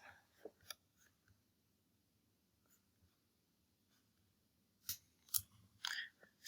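An eraser rubs writing off a board: a few faint scrapes at first, then a cluster of louder, close scrubbing strokes near the end, with no speech.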